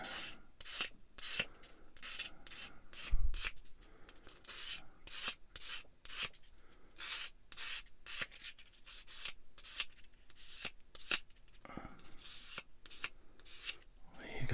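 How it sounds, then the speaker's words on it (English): A small plastic part from a Bandai Star Wars 1/144 AT-AT model kit gets a light sanding, heard as quick, close, repeated rubbing strokes in a steady rhythm with brief pauses between passes. "A little bit of a light sand."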